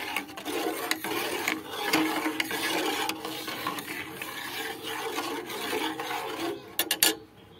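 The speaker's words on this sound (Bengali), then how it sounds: "এটা শুধু আমি এইভাবে নাড়তে থাকবো দু মিনিট এটাকে নেড়ে এটাকে এইভাবে ছানা বানিয়ে নেব" A spoon stirs milk in a pan off the heat as it splits into chhana for homemade sweets, a soft continuous scraping and swishing with small clinks near the end, close and quiet, no voice.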